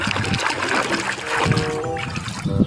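Water trickles and splashes steadily as a yellow toy dinosaur is washed, a close, continuous running stream with light dribbling, and no talking.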